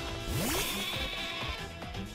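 A sheep Pokémon bleats in the Pokémon Sword game: one rising, synthesized bleat stands out clearly at the start, followed by game music and sound effects with no talking.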